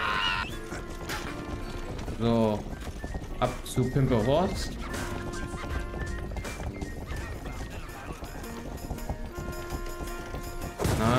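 A horse in the video game Rustler whinnies several times, with rising and falling cries and steady clip-clopping hooves running beneath them, while someone talks over the action.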